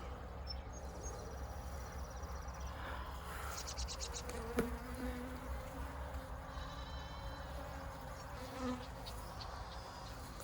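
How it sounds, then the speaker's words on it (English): Honey bees swarm over the brood frames of an opened hive, giving a steady, dense buzzing hum that runs the whole time, with a few louder individual bees passing close. "It's just covered with bees and brood."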